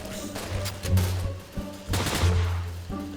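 Gunfire bursts from an online shooter game in a free-for-all match: two loud volleys of rapid shots, separated by a brief pause, with players talking in the background.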